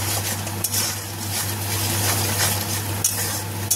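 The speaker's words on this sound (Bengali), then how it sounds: "আর দিয়ে দেবো জিরের গুঁড়ো। এটাকে ভালো করে মিক্সড করে নেব।" Cumin powder is stirred into a masala frying in a pan, with a steady close sizzle of hot oil throughout. Occasional sharp scrapes and clinks of a spoon against the pan punctuate the frying, and no one speaks.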